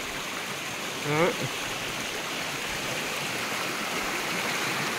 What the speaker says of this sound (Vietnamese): đây là nước sông trên mình nha mọi người